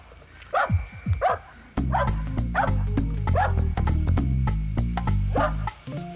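Dogs bark and yip repeatedly in a domestic scene, sharp close calls in quick bursts, with a steady harmonic drone or music underneath for most of the stretch.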